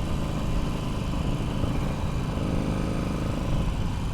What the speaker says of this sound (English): So we'll ride at 60 kilometers an hour.